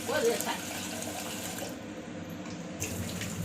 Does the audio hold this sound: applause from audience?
no